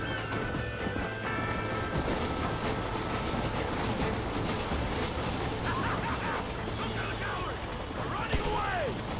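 A moving train in the Western video game Red Dead Redemption rumbles and clatters steadily throughout, with a person talking over the running noise.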